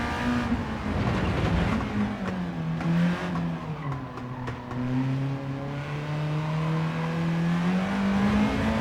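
Engine of a Honda car in Gran Turismo 7 revving and accelerating out of corners with a rising, sweeping drone, steady and loud throughout, with no one talking.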